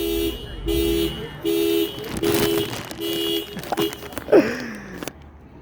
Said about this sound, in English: I heard about these Waymo cars, and they would all go off, with their car alarms